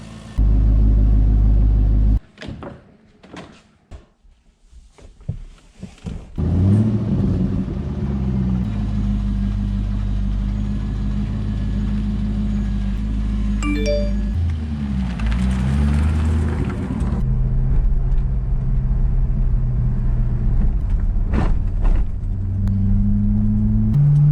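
A C5 Corvette with a budget axle-back exhaust rumbles nearby, with a loud burst and a few uneven surges early on, then a steady deep idle rumble throughout.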